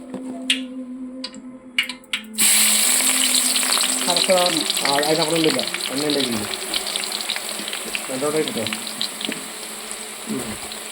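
Onions and curry leaves fry in oil for biryani, starting with a few clinks and then breaking into a loud, close crackling sizzle that continues throughout, with a voice briefly talking over it.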